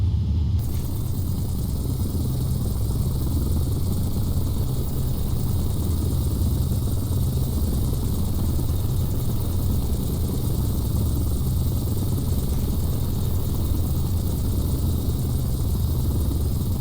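An aircraft taxis across an aircraft carrier deck in a flight simulator, a loud, steady low engine rumble and whine that holds constant throughout with no break.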